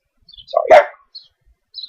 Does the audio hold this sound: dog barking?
yes